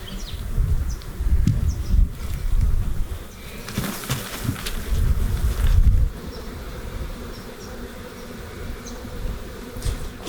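A swarm of bees being removed from inside a garage wall hums and buzzes close by, with intermittent louder rustling and handling noise through the first half, then settling into a softer steady drone.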